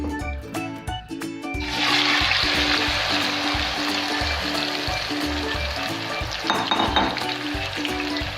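Egg balls hit hot oil in a wok and set off a loud, steady sizzle that holds for several seconds, following a few light knocks at the start.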